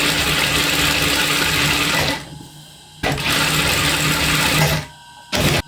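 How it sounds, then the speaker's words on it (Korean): Sewing machine stitching a blouse seam with a 2 mm topstitch, a steady close whirring hum that runs in bursts, pausing briefly twice before a short final burst. "이렇게 한 2mm로 스티치 놓겠습니다"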